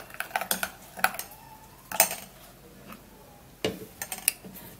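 A spoon stirs a mixture in a small container, tapping and clicking against the sides in quick irregular bursts that sound close by and light, with no talking.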